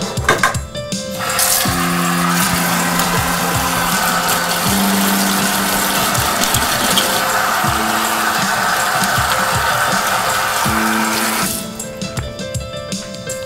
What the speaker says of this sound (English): I'm gonna give my hands a quick little wash here.